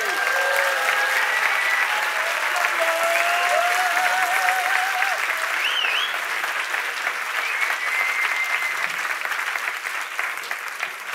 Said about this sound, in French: Faites un peu de bruit, s'il vous plaît.